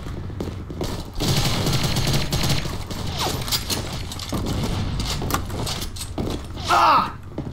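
Video game combat with dense, continuous bursts of gunfire and sniper shots, loud and close, forming a steady crackling barrage with brief mechanical clicks and no talk.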